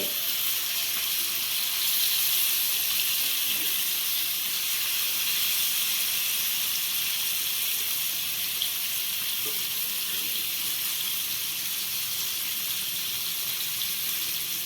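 Fish frying gently in a little oil over a low flame, a steady soft sizzle and hiss that holds even and continuous throughout, with no voices.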